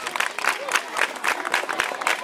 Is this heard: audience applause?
yes